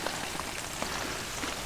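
Rain falls steadily at a campsite, a soft continuous patter of drops on surfaces with occasional closer taps, heard alone.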